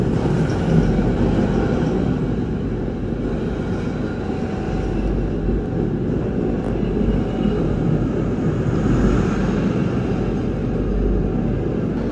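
Progo train running on the Yogyakarta–Jakarta line near Kutoarjo station, a steady loud rumble of wheels and carriage noise continuing throughout, with no talk.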